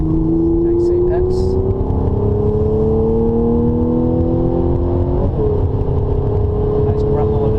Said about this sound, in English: Nice grumble of this thing, isn't it? Like a naturally aspirated V8.